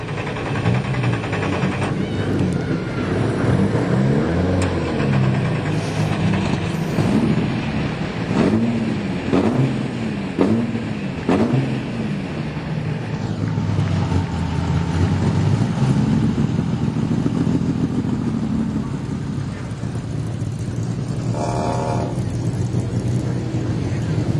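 Modified race cars rolling out for a feature event at Gympie Speedway, their engines rumbling steadily with rising and falling sweeps as cars pass nearby, under a continuous wash of track and crowd noise.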